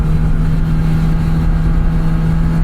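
Kawasaki motorcycle engine held in second gear on a desert road, droning loud and steady at sustained high revs with a constant low hum and wind rush, no voices.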